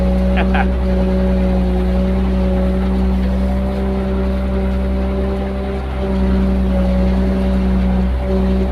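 A CAT 140G motor grader's diesel engine runs steadily and loud in a steady drone, with low tonal harmonics throughout, while someone talks over it.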